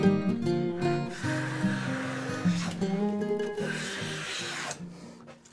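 A Stanley Bailey hand plane takes a shaving from a piece of wood, giving a continuous rubbing, rasping stroke for about five seconds that stays close and fairly loud before tapering off at the end.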